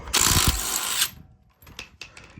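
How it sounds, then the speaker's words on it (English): Ratchet wrench loosening the lug nuts on a 2021 Nissan Rogue's driver rear wheel, a dense rapid clicking burst for about a second, followed by a few fainter separate clicks and clacks close by. "To start, you'll start by pulling off the lug nuts."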